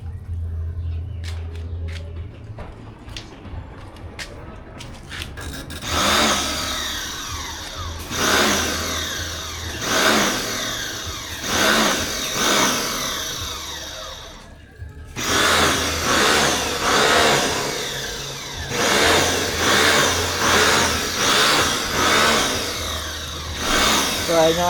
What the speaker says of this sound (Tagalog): buhay pa yung ating power sprayer. Gumagana pa.